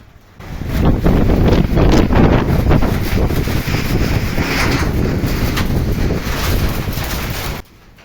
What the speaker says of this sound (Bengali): তো বৃষ্টি শুরু হয়েছে, বাতাস শুরু হয়েছে প্রচণ্ড পরিমাণে।